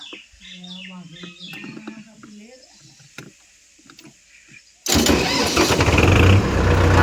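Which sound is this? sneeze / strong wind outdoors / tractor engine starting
tractor engine starting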